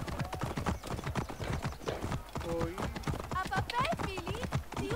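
Horse hooves clip-clop at a steady, brisk rhythm while riding in Assassin's Creed Origins, with someone talking over the continuous hoofbeats throughout.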